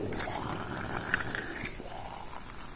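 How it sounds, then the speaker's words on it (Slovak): Water boils in a pot for a field ration meal, giving a steady, faint bubbling hiss with soft rattling, continuous and without talk. "voda sa nám varí"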